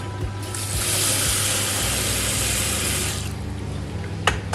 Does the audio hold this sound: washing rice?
yes